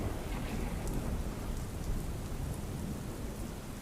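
Heavy monsoon rain pours down over Ahmedabad after sultry heat, a dense, roaring wash of drops with low rumbling underneath, loud and unbroken throughout, no voices present.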